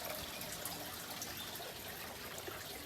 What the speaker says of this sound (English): under the lid here at the back you can see it dripping down there into the tank